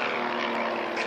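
An airplane flies low overhead, a steady, loud, broadband engine and propeller roar that holds evenly for the whole short stretch with no talking.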